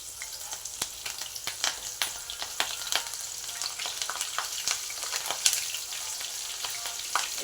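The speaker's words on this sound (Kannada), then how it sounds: "ಇವಾಗ ನಾವು ಮೆಣ್ಸಿನ್ಕಾಯಿನ ಫ್ರೈ ಮಾಡ್ಕೋಬೇಕ್ರಿ" Green chilies sizzle and fry in hot oil in a pan, a steady close crackle with frequent sharp pops and spits throughout, no voices.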